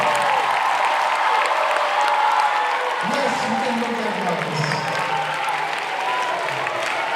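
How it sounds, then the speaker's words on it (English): Steady applause from a school audience at a mock parliament fills the clip, with a person speaking briefly over the clapping. "Let us give them a huge round of applause."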